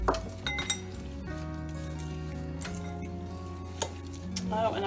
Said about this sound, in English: stir all that up.